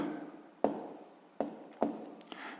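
Pen on paper writing numbers while solving a sixth-grade math exercise, close scratchy strokes with several sharp taps marking new characters, steady and quiet with no talk.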